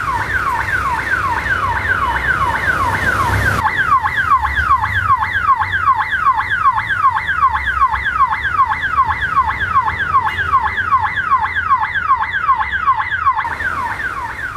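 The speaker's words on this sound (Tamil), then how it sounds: "கூட்டுறவு வங்கியில் திடீரென அலாரம் ஒலித்ததால் அப்பகுதியில் பரபரப்பு ஏற்பட்டது" A loud electronic bank alarm at a cooperative bank in Coimbatore wails continuously, rapidly sweeping up and down in pitch, with traffic rumbling underneath throughout.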